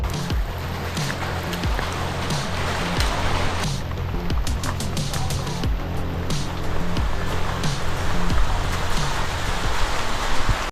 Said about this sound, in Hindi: अभी हम पहुँचते हैं एक बहुत बड़े वाटरफॉल के सामने, जहाँ लोग उस वाटरफॉल का आनंद ले रहे हैं।